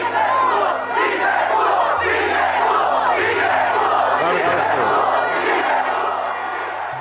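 A dense, loud crowd of Salvadorans roars and cheers in a packed plaza, a continuous wall of overlapping shouts and voices holding steady for several seconds with a low musical drone underneath.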